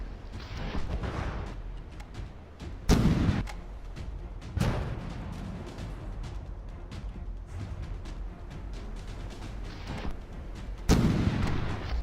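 Naval artillery salvos from warships in the From The Depths game, heavy booming shots at about 3, 4.5 and 11 seconds over a continuous rumbling battle din with scattered smaller gunfire cracks.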